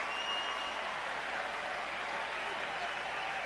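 A steady, moderately loud crowd roar rises from the stands at a Toronto Blue Jays versus Chicago Cubs baseball game, holding evenly throughout.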